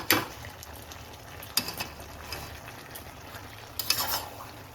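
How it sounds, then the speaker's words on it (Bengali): A spoon stirs creamy restaurant-style pasta in a pan, giving soft scraping and clinking strokes with a few sharper knocks, quiet and close with no talk. "এবার ভালোভাবে মিশিয়ে দিচ্ছি।"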